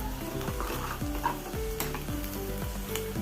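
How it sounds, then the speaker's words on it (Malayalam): Small chopped coconut pieces frying in ghee in a pan crackle and sizzle loudly and continuously, with faint stirring scrapes underneath and no voices. "ഇനി ചെറുതായി അരിഞ്ഞ തേങ്ങയും കൂടി ചേർത്ത് കൊടുക്കാം"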